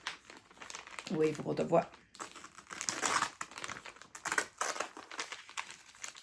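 Crinkly plastic packaging of an Advent calendar for crafters being opened and handled, rustling and crumpling in bursts under ongoing conversation between two people.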